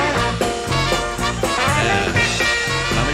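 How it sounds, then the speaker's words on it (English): An upbeat, full instrumental music track with a steady, punchy rhythm and layered melody plays loudly and continuously, with no voices. "Of course, the official Hal Herman music will play."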